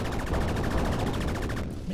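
Rapid automatic gunfire in the game Tripoly, a dense, fast rattling burst of shots lasting nearly two seconds before cutting off abruptly.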